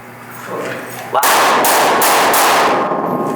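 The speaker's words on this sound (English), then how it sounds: "These are what gunshots sound like. These aren't like firecrackers. These are real gunshots." A rapid burst of loud M4 rifle shots firing blank rounds cracks out after a brief quiet murmur, several reports in quick succession, close and echoing.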